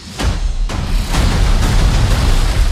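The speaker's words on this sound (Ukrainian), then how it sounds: "Щоб поменше вибухів" Heavy booming film explosions with a deep rumble, one sharp burst after another over a continuous low roar, loud and close.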